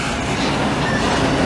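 A CN intermodal freight train rolls past Dorval station in Montreal, a loud, continuous rumbling roar with faint wheel clatter, close by and steady throughout.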